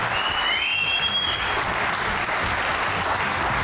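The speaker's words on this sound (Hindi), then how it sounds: "तालियां बजती रहनी चाहिए भैया" A studio audience on a comedy talk show claps steadily and loudly, a dense even wash of applause throughout with a couple of faint whistles over it and no talk.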